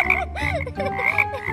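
Frog croaking effect with several loud, close, rubbery croaks in quick uneven succession, filling the short moment alone with no talk over it.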